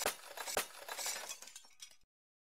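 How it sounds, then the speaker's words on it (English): Glass shatters twice in the Roblox horror game Faithless, two sharp bursts of breaking and clinking shards close together, followed by scattered tinkling that dies into silence. "Glass shattered twice."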